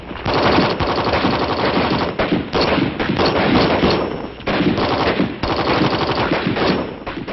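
Loud bursts of M14 7.62 mm rifle fire on a range, dense cracking shots in rapid clusters broken by short pauses, continuing for about seven seconds with no talk.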